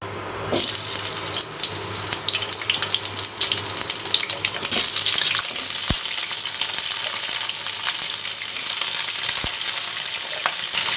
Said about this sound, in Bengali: তেল দিয়ে দিচ্ছি ফুলকপি ভাজার জন্য